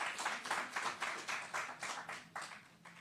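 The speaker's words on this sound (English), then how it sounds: "So let's give them a round of applause." A small crowd at an outdoor groundbreaking ceremony claps in a thin, fairly quiet patter, with individual claps pulsing in an uneven rhythm for a few seconds.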